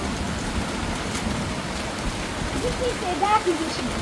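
Rain falls steadily outside as a continuous hiss, with a brief faint sound near the end.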